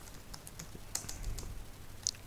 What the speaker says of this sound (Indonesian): langsung ketik aja di sini